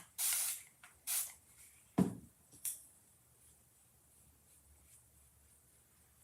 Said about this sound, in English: I need to spritz this